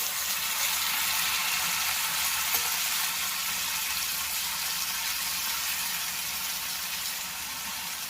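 Five tomatoes frying in oil in a pan with salt added, giving a steady, close, continuous sizzle with a faint stir partway through, no voices over it.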